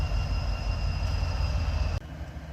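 Freight train locomotives labour up a grade, a deep, continuous diesel rumble with steady high tones, fairly loud and close, with no voices.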